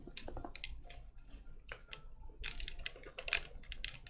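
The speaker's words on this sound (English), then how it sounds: "Sorry, I was typing." Computer keyboard typing: bursts of quick key clicks at an uneven pace, close and fairly quiet, with brief pauses and no talking.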